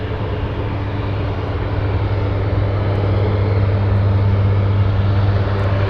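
A Boeing 747 Dreamlifter cargo jet pushing back for departure at Anchorage, its engines and ground equipment a steady, loud broadband drone with a low hum, rising slightly in level and running continuously without voices.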